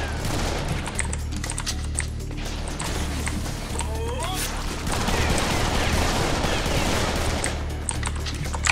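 Rapid pistol gunfire in a Serious Sam 3 video game, a busy stream of sharp shots and mechanical clatter that overlaps talk for the whole stretch.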